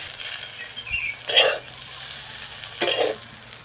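Neem leaves frying in hot oil in a pan sizzle softly, with a few louder bursts as they are stirred, close by and without talk.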